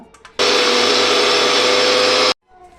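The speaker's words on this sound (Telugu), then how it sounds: "మిక్సీ కోసం అండి ఇది అంతా మసాలా పేస్ట్ చేస్తున్నాను" A mixer grinder runs loud and steady for about two seconds, grinding roasted garam masala into a paste for a stuffed brinjal (gutti vankaya) curry, then cuts off abruptly.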